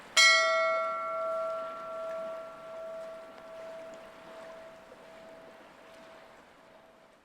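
A single bell is struck once and rings out clearly, its bright metallic tone decaying slowly over several seconds against a quiet outdoor background.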